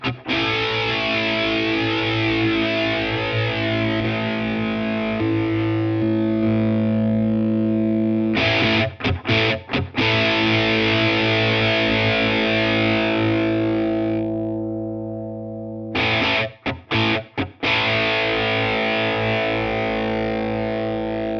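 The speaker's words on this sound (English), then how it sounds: "we can't turn the distortion off to use just the time-based effects" Electric guitar played through a Boss MZ-2 Digital Metalizer pedal with distortion always on, sustained heavily distorted chords with a few abrupt choppy stops and restarts, loud and alone.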